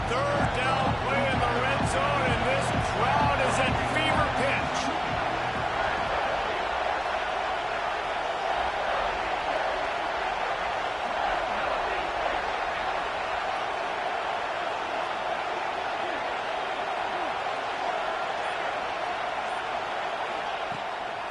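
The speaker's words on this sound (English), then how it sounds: "Third down play in the red zone, and this crowd is at fever pitch." Stadium crowd roaring during a red-zone third down in NCAA 26 football, a steady dense wall of crowd noise under commentary, with rhythmic thumps early on.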